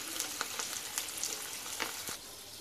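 Sweet corn cheese balls frying in hot oil give a steady, close sizzle with scattered sharp pops and crackles throughout, and no voices.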